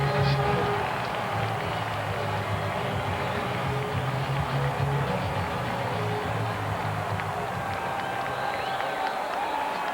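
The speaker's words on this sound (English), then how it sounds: "a great crowd on hand to cheer on the Eskimos" Stadium crowd at a 1999 CFL football game cheering an Edmonton Eskimos touchdown, a dense sustained roar with applause, loud and continuous throughout, with a broadcast commentator talking over it.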